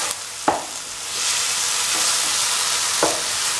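Eggs with tomato and pepper sizzle in a pan as salt is stirred in for an Afghan breakfast, a soft steady frying hiss punctuated by a few sharp spoon taps against the pan.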